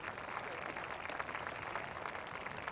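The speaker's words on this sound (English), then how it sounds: "I think it is worthy of a round of applause." Spectators clapping at a polo match, a steady, even wash of applause held at moderate distance for the whole stretch, with no single claps standing out.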